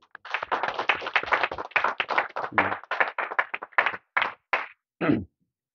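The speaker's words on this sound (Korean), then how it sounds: "하나님께 영광의 박수 한번 올려드립니다" A church congregation claps together in a brisk burst of applause during a Sunday service, thinning into a few scattered final claps before stopping.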